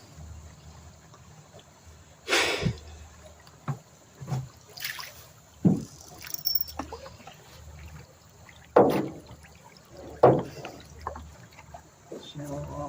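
A canoe on the Hoosick River grinds onto the shallow riverbed, with several sharp scraping bumps and knocks against a quiet watery background while people talk nearby.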